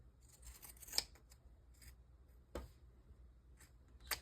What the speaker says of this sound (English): now we are going to cut down our seam allowance